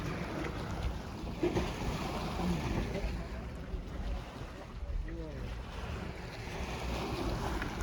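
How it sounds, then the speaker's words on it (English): Boiling hot spring in Idaho churning so hard it makes waves, a continuous rough splashing and bubbling wash with wind buffeting the microphone throughout. "That thing is boiling so much it's making waves."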